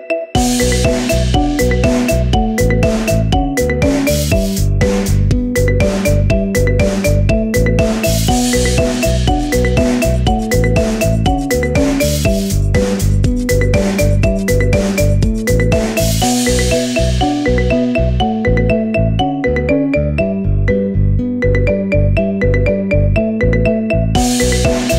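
A bright marimba remix ringtone loops steadily, with plucked mallet notes over a bouncing bass line, loud and continuous with no voices.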